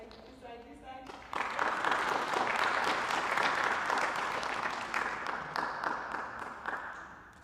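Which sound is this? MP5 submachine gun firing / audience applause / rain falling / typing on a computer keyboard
audience applause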